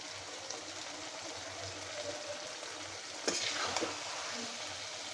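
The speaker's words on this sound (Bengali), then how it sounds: "টমেটো ভুনা, আমার মশলাটা কষা হয়ে গেছে" A tomato and spice masala (tomato bhuna) fries in a pan with a steady, moderate sizzle, and a brief burst of scraping or stirring near the end. No talking is heard.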